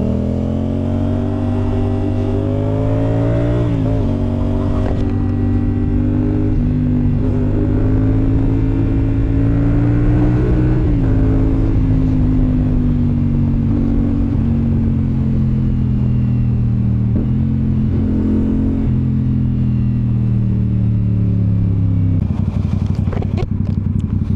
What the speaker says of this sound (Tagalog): nag-e-enjoy ako dito sa power na binibigay nitong motor na to